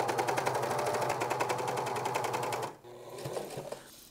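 A sewing machine runs a zigzag stitch around a pajama collar, a close, steady rapid clatter for a few seconds that then cuts out, followed by softer, slower stitching.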